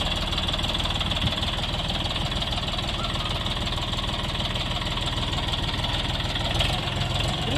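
A Bulat 244 three-cylinder four-wheel-drive mini tractor engine idles steadily nearby with a rough, even chugging and rattling vibration that holds constant throughout.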